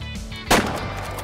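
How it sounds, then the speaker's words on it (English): A single .223 rifle shot is fired at a pheasant in the hunting game Way of the Hunter, a sharp, loud report with a brief rolling tail over quiet outdoor ambience. "let's shoot a pheasant. Pretty sure the 223 is way overpowered for it."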